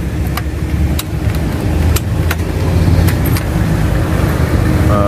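A Mercedes-Benz 312d Sprinter motorhome's diesel engine idles steadily just after starting, a low, even rumble that stays constant at close range, with a few faint clicks over it.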